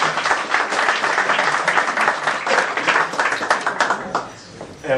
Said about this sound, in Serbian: za njega jedan aplauz da mu pošaljemo u Kolarca